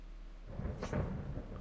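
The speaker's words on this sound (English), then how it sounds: "It's just thunder, don't worry." Thunder rumbles in a rainy night scene of the medieval video game Kingdom Come: Deliverance, a deep, low roll that swells after a brief crack and then lingers, loud and close, with no talk.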